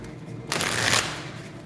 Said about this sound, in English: And just shuffle this a few times